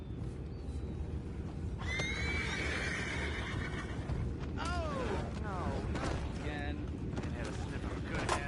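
Several horses whinny and neigh at moderate distance in the video game Red Dead Redemption 2, over a steady background of hoof clatter and ambient noise.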